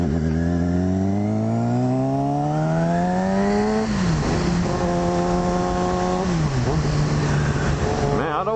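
A motorcycle fitted with an M4GP stage 2 exhaust revs loud and close, its pitch climbing steadily, dropping, then holding a high droning note before easing off again.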